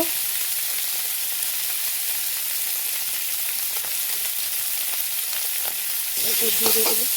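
Masala being stirred and sautéed (kosha) in a pan, giving a steady, loud broadband sizzle with occasional spoon scrapes, the frying growing louder and rougher near the end.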